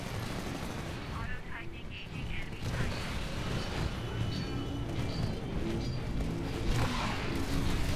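A Titan exploding in Titanfall multiplayer, heard as a dense, loud roar of blasts and crashes tangled with ongoing gunfire, with someone talking over the chaos.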